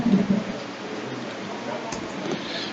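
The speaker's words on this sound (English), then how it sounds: "It's raining a lot." Heavy rain falling outside, a steady hissing wash with low rumbling beneath, continuous and moderately loud through the whole stretch.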